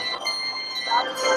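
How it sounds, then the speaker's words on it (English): Massed handbells ring at a very large ensemble gathering, a shimmering blend of bright sustained tones with overlapping strikes, moderately loud with crowd murmur and talk mixed in. "This is an official Guinness World Records title attempt for largest handbell ensemble."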